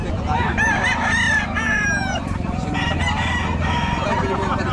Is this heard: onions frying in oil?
no